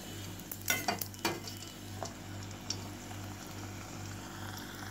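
Puris for pani puri frying in hot oil, a steady soft sizzle under a constant low hum, with a few sharp clinks and scrapes of a utensil near the start.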